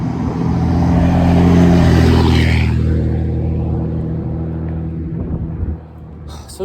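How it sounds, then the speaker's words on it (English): A big truck drives past outdoors with a loud, low engine rumble that builds to a peak and then fades away over several seconds, with faint bird calls in the background. "Anyway, big truck."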